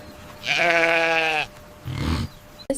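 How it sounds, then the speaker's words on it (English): A sheep gives one loud, drawn-out bleat lasting about a second, followed by a softer rough grunt-like call and a brief knock, close and clear against a quiet background. "This is a sheep."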